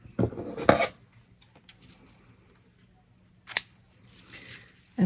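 Scissors cutting a strip of plain white satin ribbon: a close crisp snipping burst at the start, another sharp snip a few seconds later, then faint rustling, no talk.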